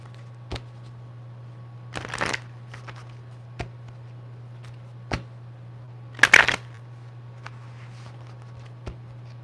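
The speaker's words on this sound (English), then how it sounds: "Terrible shuffle." Two brief riffling bursts of playing cards being shuffled stand out over a steady low electrical hum, with scattered small clicks and taps between them.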